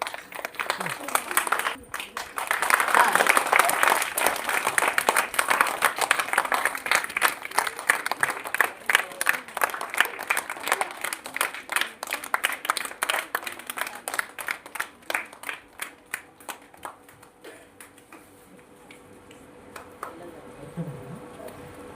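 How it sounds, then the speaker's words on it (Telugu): A school assembly audience claps together on Republic Day, the applause building to a dense patter, then gradually thinning and fading to scattered claps; a voice is heard faintly near the end. "ముందు క్లాప్స్ కొట్టాలి."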